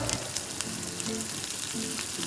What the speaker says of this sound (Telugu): ఇంకొక 5 మినిట్స్ కనుక కుక్ చేసుకుంటే బనానా చిప్స్ మనకి రెడీ అయిపోతాయి